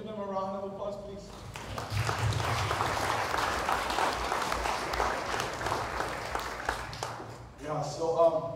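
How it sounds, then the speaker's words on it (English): An audience at a community meeting bursts into sustained applause for several seconds, a dense wash of clapping between stretches of a speaker's voice at the start and end. "Can we give them a round of applause, please?"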